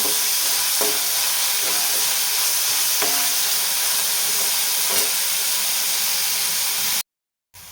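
Onion sizzles steadily in a cooker pan, a constant frying hiss broken by light scraping taps of stirring, then a short cut to silence near the end.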